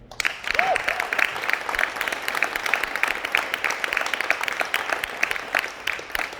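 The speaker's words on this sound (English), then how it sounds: "One more big round of applause for that." Loud, sustained applause from a sizable audience at a National Signing Day event, continuous clapping throughout with a brief whoop near the start.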